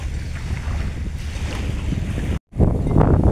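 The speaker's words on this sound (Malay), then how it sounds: "angin begitu kuat sahabat angin begitu kuat" Strong wind buffets a fishing boat at sea, a loud continuous roar of gusts and microphone rumble over the water, cutting out for a split second before surging back even louder.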